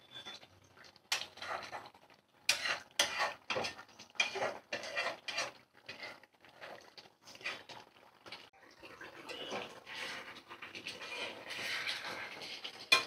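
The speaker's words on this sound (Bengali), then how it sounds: "একটু নাড়াচাড়া করে নেব, এবার ঢাকা দিয়ে দেব আর ধনেপাতা দিয়ে নামিয়ে নেব" Chicken curry is stirred in a pot: irregular scraping and rubbing strokes of a utensil against the pot come in bursts with short pauses, close and fairly quiet, turning to a steadier scraping toward the end, no talking.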